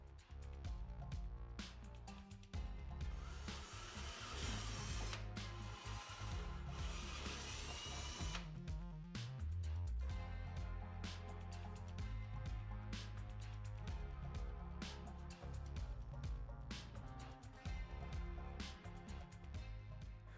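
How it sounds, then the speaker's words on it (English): Power drill boring through a bracket during a Turbo Tusk Stage 3 kit install on a Polaris RZR XP 1000, loud whining bursts that start and stop repeatedly, with the longest run in the middle. "before you drill this other side"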